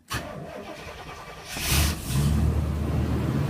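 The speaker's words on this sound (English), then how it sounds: "let's put the key in the ignition, turn it on" A 1991 Fleetwood Southwind motorhome engine cranks briefly with the starter whirring as the ignition key turns, then catches and settles into a steady, close idle rumble.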